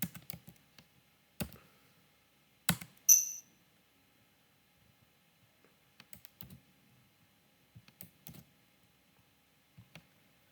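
Keys clack on a computer keyboard in short irregular bursts, with a firmer press of Enter among them, close and clear against otherwise quiet room silence.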